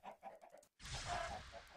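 Chickens in the video game Minecraft give short clucking calls: a quick series of soft clucks, a tiny gap, then a denser, louder burst of clucking.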